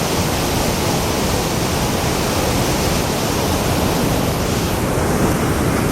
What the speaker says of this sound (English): if you can see the beauty of the Tahquamenon River as it goes down the lower falls